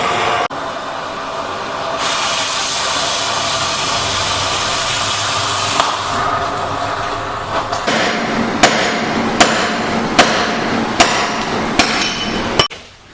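A cutting torch removes the track bar ball joint nut on a Jeep Cherokee XJ, giving a loud steady roaring hiss that ends in several sharp metallic knocks and clanks.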